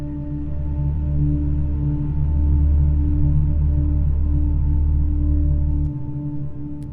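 Orchestral score layer, a very low sustained CS80-like synth drone from Omnisphere beneath warm pad tones, steady and dark, swelling slightly midway before the deepest layer drops away near the end.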